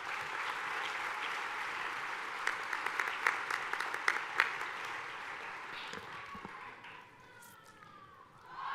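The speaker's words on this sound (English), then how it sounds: "Let's give the choir another round of applause." Sustained audience applause for a choir at a university welcome day, a broad steady wash of clapping with a few sharper claps standing out, fading near the end as a higher tone briefly rises.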